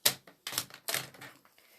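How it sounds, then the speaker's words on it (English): Card stock being trimmed to size for a slimline card, with three sharp cutting strokes, each a crisp snap that trails into a short scrape, close and loud with no talking. "So I'm just going to cut that at 4 1/8."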